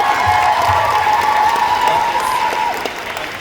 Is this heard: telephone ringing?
no